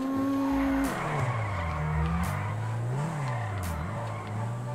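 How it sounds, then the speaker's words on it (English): Car drifting down a runway in a Rockstar video game: a loud, continuous engine drone with pitch rising and dipping as it revs, plus brief tire screeches, no talking. "Let's see if we can drift it."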